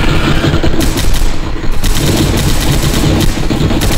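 Loud, continuous automatic gunfire from an M60 in Left 4 Dead, rapid dense bursts of shots rattling close and sustained, with only slight dips in the barrage.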